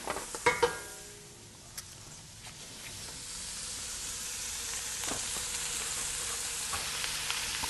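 About 1.5 pounds of ground meat for bolognese hitting a hot pot, a soft, continuous frying hiss with a few clinks of stirring near the start, fairly faint and unaccompanied by speech.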